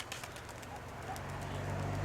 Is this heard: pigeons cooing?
yes